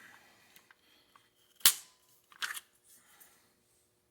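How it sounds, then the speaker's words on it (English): A Knights Armament SR-15 rifle bolt is pulled apart by hand, giving a sharp metallic snap, then a quick double click a moment later, with faint small handling taps between them. "Let's go ahead and pull apart the bolt"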